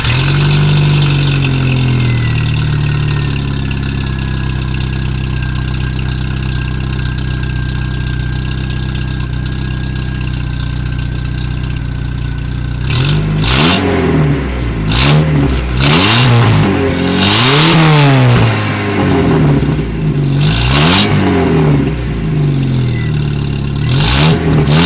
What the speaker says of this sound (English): here you go, the MBRP catback exhaust.